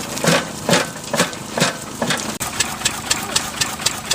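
An Anderson 2.5 horsepower dairy farmers oil engine runs at a steam fair, giving a steady, rhythmic chuff-and-knock beat of regular firing pulses, close and prominent.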